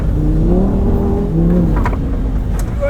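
A Lamborghini Huracan Sterrato slides around a dirt course, its engine droning loudly with shifting revs from inside the cabin, joined by brief gravelly rattles.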